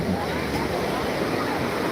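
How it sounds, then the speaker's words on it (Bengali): Continuous rushing water as big waves break on the shore at Gangasagar while people bathe, steady and fairly loud throughout with no clear pauses. "দারুণ দারুণ সমস্ত জলে ঢেউ আসছে"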